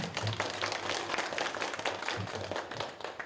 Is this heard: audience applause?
yes